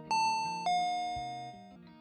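Two-tone intercom doorbell chime in a medical-themed video game about neonatal intensive care, a clear ding-dong followed by a softer descending tone, clean and isolated with no talk.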